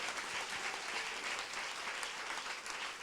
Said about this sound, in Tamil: பலத்த கைகளை தட்டி என்ன விசுவாச கைத்தட்டு